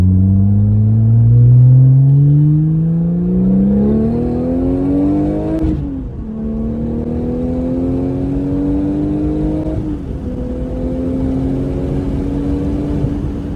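A Porsche 996 GT2 turbo accelerating hard on the road, its engine note climbing steeply through successive gears with short dips at each shift, loud and close from inside the car, no voices.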